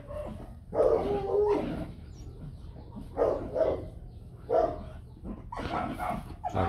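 A fluffy white Bac Ha dog barks outdoors in repeated bursts, four or five short volleys spread over several seconds at moderate distance.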